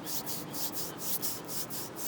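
Palms rubbing together in a slow, steady back-and-forth, making a soft continuous swishing friction close to the ear with a gentle repeating rhythm and no talking.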